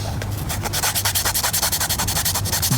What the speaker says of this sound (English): So I'm just scraping some of that stuff off.